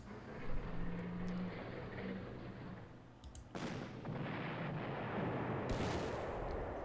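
Artillery fire in the Panzer Corps video game, a rumbling low boom followed by a sustained roaring blast that surges partway through and carries on loud and broad, with no talking.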